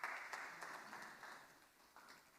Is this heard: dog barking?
no